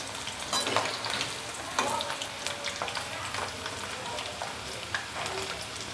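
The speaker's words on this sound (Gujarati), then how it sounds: "ધીમે તાપે એને તરાવા દેશું ગેસ ધીમો રાખવાનું" Potato peel wafers fry in oil over a low flame, a continuous soft sizzle and bubbling with scattered crackles and pops, close up with no speech.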